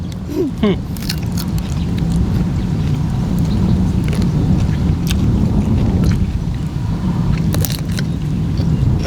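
A car driven along by a father gives a steady, loud cabin rumble throughout, with occasional light clicks and rattles on top.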